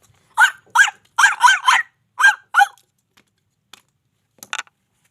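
A human voice imitates a dog barking, giving about seven short, loud, rhythmic barks in quick succession, followed by a few faint clicks and a brief soft noise.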